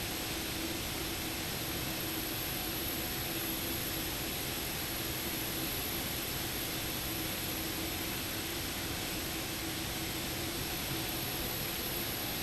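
Boeing 747-8 Freighter jet engines sitting at idle thrust in the X-Plane 12 flight simulator make a constant, even turbine roar and hiss, with a thin high whine above it and no change across the whole stretch.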